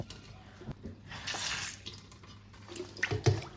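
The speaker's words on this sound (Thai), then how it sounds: "เอาปลาทูมาล้างน้ำ" Short mackerel being rinsed in water for a northern Thai yod mamuang dish, with soft splashing and trickling that swells midway and ends in a few closer sloshes.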